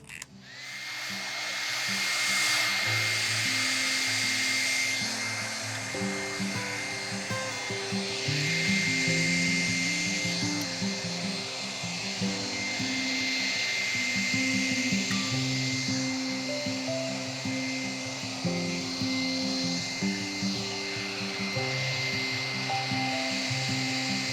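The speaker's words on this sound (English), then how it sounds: "Now the fun part, let's blow it out and see how these colors play together." A hair dryer blows across fresh acrylic paint in a Dutch pour with galaxy colors, giving a loud, steady whirring rush with a constant motor hum that runs without pause for the whole stretch, and no voices.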